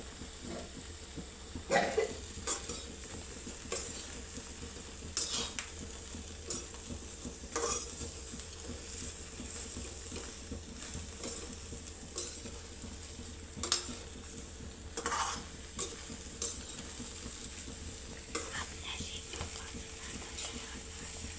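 Dry peas being roasted and stirred in a pan make a continuous scraping, rattling patter, with sharper clinks of the spoon against the metal recurring every few seconds at close range.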